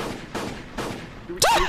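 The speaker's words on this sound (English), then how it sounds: "What's that noise? Oh, that's a gun?" Three evenly spaced sharp gunshots ring out, each with a short decaying tail, followed by a louder burst with a rising whistle-like tone near the end.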